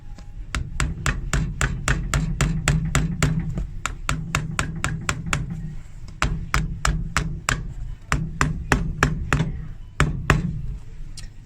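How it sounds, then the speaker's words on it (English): Old nails are hammered through a leather shoe sole while a Loake 201B is restored, with a long run of sharp, evenly spaced hammer blows, close and loud, in quick steady rhythm with brief pauses between groups. "hammer through these old nails"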